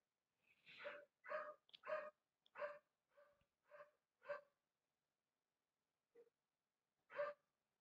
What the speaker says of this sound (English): Oh my god, don't mind the dogs.